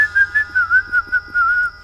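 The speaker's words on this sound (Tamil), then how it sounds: "என்ன ஏதோ விசில் சத்தம் கேக்குது." A person whistles a short melodic tune, about eight clear, bright pitched notes in a lilting rhythm, close and loud with no other sound around it.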